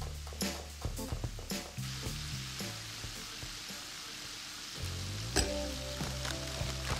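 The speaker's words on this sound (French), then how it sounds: "On fait revenir les lardons dans un poêlon, sans matière grasse" Lardons fry without fat in a small pan, giving a continuous crackling sizzle with scattered pops and occasional clinks of a utensil against the pan throughout.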